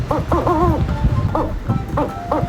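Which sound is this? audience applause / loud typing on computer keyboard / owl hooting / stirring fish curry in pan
owl hooting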